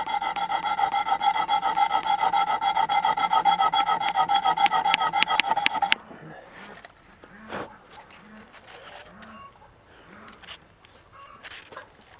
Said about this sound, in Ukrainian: тепер нарізаю дульку алмазним надпилем